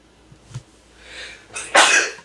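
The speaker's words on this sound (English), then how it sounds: "I've been sneezing through all the readings." A single close, sharp sneeze with a short breathy intake before it, otherwise quiet.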